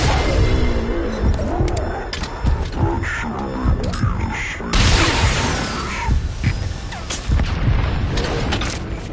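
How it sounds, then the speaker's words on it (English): Explosions and gunfire boom in Metal Gear Solid 5: The Phantom Pain, loud heavy blasts and rumbling impacts in quick succession, with game voices speaking between them. "Heard an explosion."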